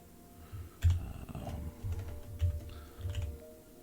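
Typing on a computer keyboard while entering text into an Excel budget spreadsheet, with soft, close key taps arriving in short uneven clusters over a quiet hum.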